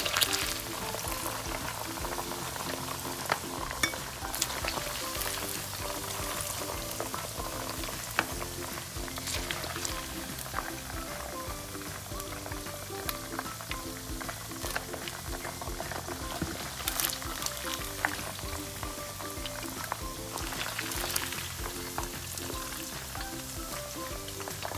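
Beef pieces deep frying in a pot of hot oil for Mongolian beef, a dense, steady bubbling crackle that goes on unbroken, with occasional sharper pops and faint clinks over it.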